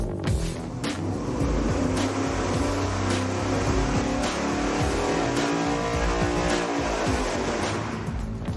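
An engine fitted with 12-inch header extensions runs hard on a dyno, a loud continuous roar that climbs steadily in pitch as it pulls up through the revs, close and alone without talk.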